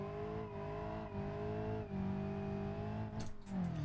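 Ibishu 200BX base model revving in the BeamNG driving game, a steady droning engine note rising and falling in pitch with a brief tire squeal near the end, close and alone.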